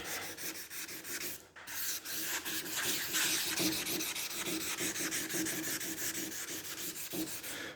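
Hand rubbing primer on a Honda ST 1100 motorcycle panel makes a steady, close scratchy sanding sound in brisk back-and-forth strokes, with a brief pause near the start and no talking.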